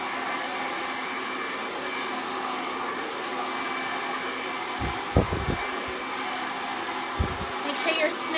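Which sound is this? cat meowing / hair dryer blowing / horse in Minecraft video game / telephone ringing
hair dryer blowing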